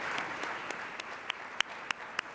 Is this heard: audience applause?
yes